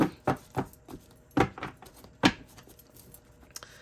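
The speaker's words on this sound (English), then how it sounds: "So I'm just going to shuffle this deck quickly" A deck of cards is quickly shuffled by hand: a series of sharp, crisp riffling bursts at uneven intervals, close up and fairly quiet, with no talking.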